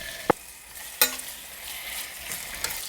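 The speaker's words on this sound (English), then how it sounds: "Brown the sausage to bring out some flavor." Smoked sausage browning in olive oil in a saute pan, a faint, steady sizzle broken by two sharp knocks or clatters from the pan.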